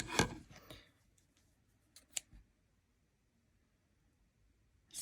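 Scissors cutting paper words for a craft project: a few quiet, brief snips and rustles, one burst at the start and a couple more near the middle, with silence in between.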